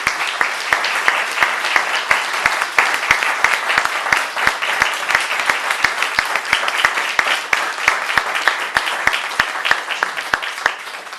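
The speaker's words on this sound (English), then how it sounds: "One good round of applause for the excellent job he did done." Audience giving a round of applause after a Q&A session, dense crowd clapping with a few sharp, close individual claps standing out rhythmically above the steady wash, sustained at even loudness throughout.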